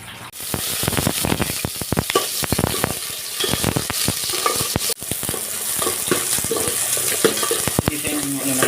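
Shrimp sautéing with onion and garlic in a pan, a steady loud sizzle broken by repeated sharp scraping clacks of a utensil stirring, close up with no voices.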